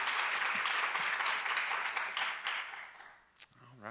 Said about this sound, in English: So let's give a big round of applause once more